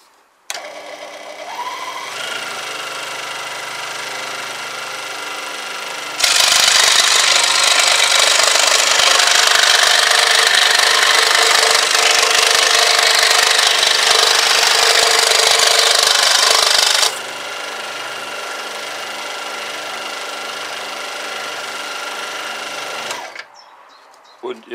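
A scroll saw with a strong motor and high throat clearance cuts through a workpiece, a steady loud buzzing whir running for about ten seconds between quieter stretches of motor hum and handling noise.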